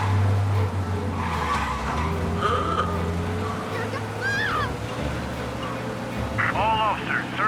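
In the Mafia video game, a car is driven fast with a steady engine roar. Sharp tire squeals and skids break through twice, briefly and loudly, over the road noise.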